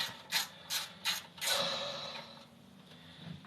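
A 1/4-inch drive ratchet turning a bolt during a small engine teardown, close and clear: several quick rasping clicks in a row, then a longer drawn-out ratcheting sweep that fades, with no talking.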